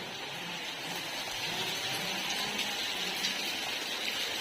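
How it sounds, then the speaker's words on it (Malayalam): Heavy rain pouring down outdoors, a steady, dense wash of noise that holds evenly for several seconds with no voices. "ഇവിടെ തകർത്ത് പെയ്യുന്ന മഴയാണ് കാണിച്ചു തരാം"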